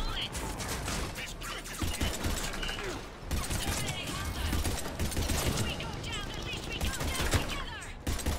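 Dense, continuous gunfire in the video game Mass Effect 3, rapid bursts and crackling shots layered with effects, with voices shouting over the steady barrage.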